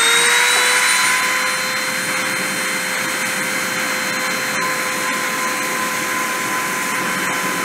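A machine spindle spinning at 30,000 RPM during deposition gives a steady, loud high-pitched whine with constant tonal lines, running unbroken throughout with no talk.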